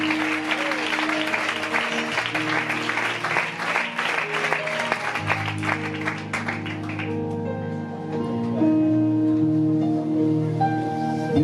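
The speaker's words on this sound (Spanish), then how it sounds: "Los que lo crean, denle un aplauso a él," Church congregation giving applause during a sermon, dense sustained clapping that fades out while music plays on underneath.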